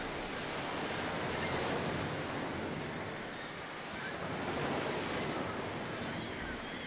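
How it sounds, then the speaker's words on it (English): Beach waves in the Baldur's Gate video game: a steady, full wash of surf and ocean rush that swells gently and recedes, continuous and fairly loud with no voices. "Beach sound effects."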